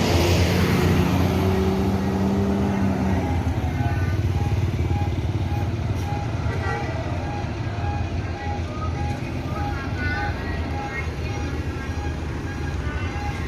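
A Yanti Group intercity bus on the Padang–Jakarta route pulls away on the road, its loud, steady engine rumble filling the scene from close by with voices over it.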